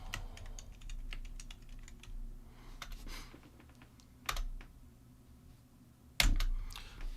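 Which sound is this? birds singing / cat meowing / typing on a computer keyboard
typing on a computer keyboard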